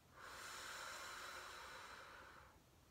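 A steady, breathy exhale during a Pilates swimming exercise, rising quickly, holding for about two seconds, then fading, close and alone without talk.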